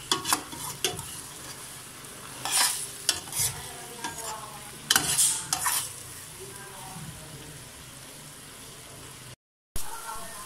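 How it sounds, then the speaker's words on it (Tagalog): Egg and bitter gourd frying in a pan, with steady sizzling and several bursts of clattering stirring against the pan, then a brief silent gap before the sizzle resumes. "Lutuin muna natin ng konti yung itlog."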